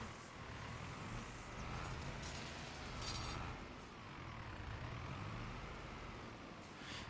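A farm vehicle in Farming Simulator 25 brakes: a constant loud engine drone with a short air-brake hiss around the middle, with no talking.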